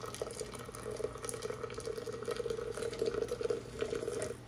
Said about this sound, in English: we'll do a quick pour over.